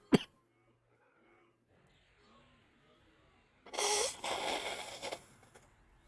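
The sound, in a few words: person blowing their nose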